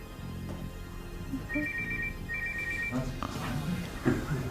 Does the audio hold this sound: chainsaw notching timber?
no